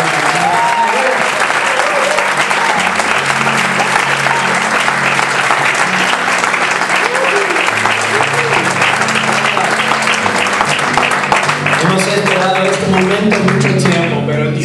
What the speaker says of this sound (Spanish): Un aplauso súper fuerte para nosotros.